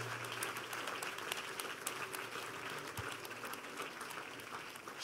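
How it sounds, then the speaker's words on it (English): A church conference audience claps hands in a sustained, moderately loud patter of applause with no voices over it, and a single heavier thump near the middle. "Oh, clap your hands."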